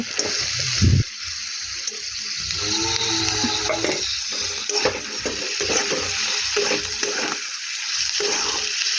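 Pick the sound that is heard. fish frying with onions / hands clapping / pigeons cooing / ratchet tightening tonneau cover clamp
fish frying with onions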